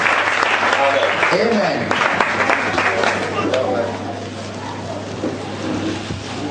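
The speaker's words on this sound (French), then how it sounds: "Under your applause, please." Sustained applause from a large audience fills an ordination ceremony, with dense clapping throughout and voices speaking briefly over it.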